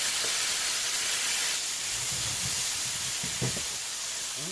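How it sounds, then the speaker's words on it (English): Yam leaves sauteing in a pan give off a steady, close hiss and sizzle, with a few faint clinks and scrapes of cooking mixed in. No one talks. "you just want to saute this until all the ingredients has been incorporated"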